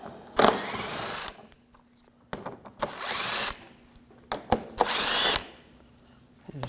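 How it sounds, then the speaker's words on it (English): A power tool fitted with an 8mm socket backs screws out of the front lower grille shield on a 2007-2013 BMW 328i, firing in three loud, close bursts with clicks and handling noises between them. "We're going to take these screws out."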